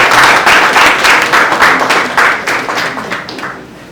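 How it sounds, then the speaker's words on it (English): Loud, close applause from a workshop audience in Belize City, a dense burst of clapping with a rhythmic pulse that gradually thins and fades toward the end. "And a round of applause,"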